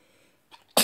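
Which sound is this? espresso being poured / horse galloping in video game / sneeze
sneeze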